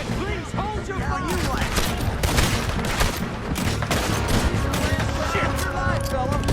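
A Red Dead Redemption 2 shootout crackles with rapid, overlapping gunshots, loud and near, mixed with brief shouted voices and a steady bed of game noise.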